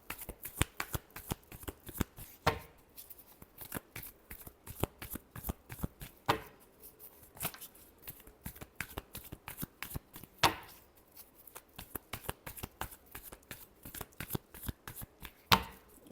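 Tarot cards are shuffled by hand in quick, crisp riffles and flicks, a dense rhythmic patter with a few sharper snaps, close up and with no voice.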